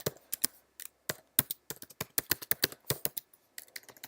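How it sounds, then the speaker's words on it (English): Fingers typing a password on a computer keyboard, a quick irregular run of soft, close key clicks with short pauses between bursts and no talking. "Here, let me try typing yours in again."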